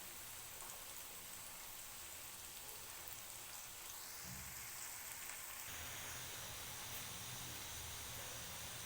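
Onions browning in hot oil for a fish curry, a steady broadband sizzle and hiss that runs unbroken and fairly quiet throughout, with no voices.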